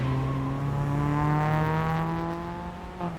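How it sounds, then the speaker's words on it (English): A loud engine roars steadily with a deep, rising drone that slowly climbs in pitch, then eases off near the end. "roar of the truck's engine."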